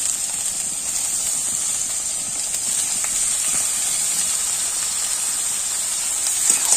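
Washed chicken goes into a pan of frying onions for masala chicken, giving a steady, loud sizzling hiss that holds evenly throughout with faint stirring clicks.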